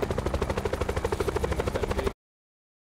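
A helicopter in a video game thuds with fast, evenly spaced rotor beats, loud and close, running steadily for about two seconds before cutting to silence.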